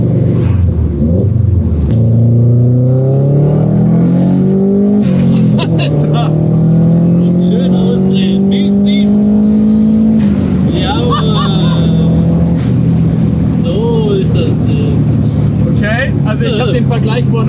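Turbocharged car accelerating at full throttle, engine note climbing steadily through rising revs with a gear change, loud and close, with people talking over it.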